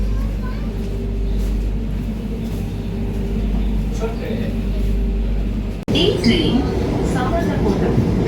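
Steady low rumble of a Vande Bharat Express train interior with a brief cut, then rising mechanical rattling and clatter as the carriage gets moving, voices murmuring faintly.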